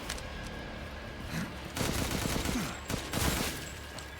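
Gunfire from the hip in Resident Evil Village, heard as a cluttered run of fairly quiet, repeated shots mixed into busy in-game action, with the firing growing denser in the second half.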